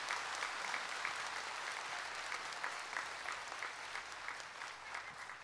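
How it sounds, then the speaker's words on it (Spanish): A crowd gathered at an outdoor Easter Mass on a town square applauds, steady, fairly distant clapping that holds evenly throughout. "Aplausos para Él en esta mañana de resurrección."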